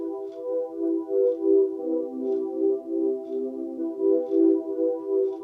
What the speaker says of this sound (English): And on top of that we have what they call classic pad